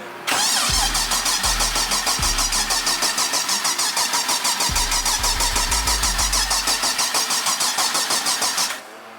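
A freshly built 6.2 engine on a dry block, fitted in a small car, cranks in a few heavy bursts, then fires and runs loud and close with a steady rapid lumpy idle pulse for several seconds before cutting off.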